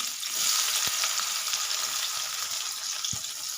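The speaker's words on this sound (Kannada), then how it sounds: "ಎಣ್ಣೆ ಕಾದಿದೆ. ಇವಾಗ ಈರುಳ್ಳಿ ಹಾಕ್ತಾಯಿದ್ದೀನಿ." Steady, bright sizzle of onions frying in hot oil, a dense crackling hiss with a couple of soft knocks from stirring.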